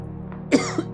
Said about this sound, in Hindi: छोटी सी खांसी है